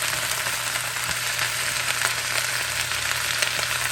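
Shredded cabbage fries loudly in a pan during a Sunday dinner cook, a steady, dense sizzle that keeps going without a break and stays close and loud, with no voices over it.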